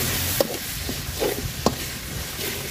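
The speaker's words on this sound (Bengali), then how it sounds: "মশলাটা খুব সুন্দর করে ভাজা নিছি" Spice paste of ground cumin, garlic and green chili frying with chopped onion in oil, a soft steady sizzle with a few sharp spatula scrapes and stirring knocks close by, no talking.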